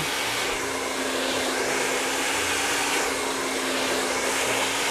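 A hair dryer blows continuously while curly hair is dried, a loud, steady, even roar close by for the whole stretch, with no talk.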